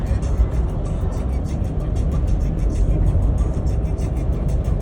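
Steady road and engine rumble from a car cruising on a highway in Japan, a continuous close drone with tyre noise throughout and no distinct events.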